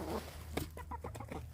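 Backyard laying hens clucking softly in short, irregular bursts at close range, a quiet, steady murmur of fowl chatter with no talk.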